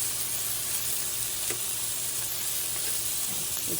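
Thin chicken slices sizzle in a frying pan with a steady, close, hissing crackle that holds evenly throughout and is broken only by a faint tap or two.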